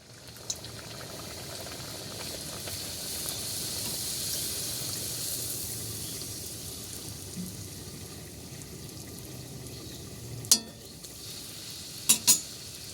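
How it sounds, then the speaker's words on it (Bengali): Luchi, puffed Bengali flatbread, frying in hot oil: a steady soft bubbling hiss runs throughout at low level, with a few sharp metallic clinks of a utensil near the end. "তো লুচিগুলো ভেজে নিই বেশি লাল লাল করে ভাজি না"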